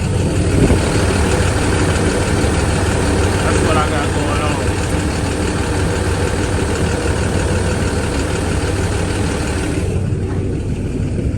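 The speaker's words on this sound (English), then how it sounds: "the truck is running now. I don't know if you can hear it." A box truck engine idles with a steady low rumble and mechanical clatter, close by, while someone speaks briefly over it.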